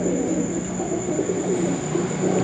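Teddy pigeons of a Sialkoti high-flying breed coo in a low, rhythmic murmur beneath a steady background hum, close and continuous.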